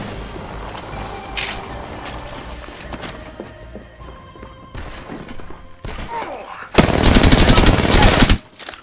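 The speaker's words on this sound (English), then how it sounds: "Opening fire." Apex Legends gunfire, with scattered close shots and clatter building to a loud sustained burst of rapid automatic fire near the end, alongside game sounds.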